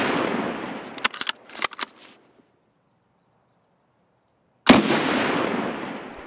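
Sniper rifle fire in Escape From Tarkov, several sharp cracks close together with rolling echo tails, then near silence before one more loud shot rings out and reverberates.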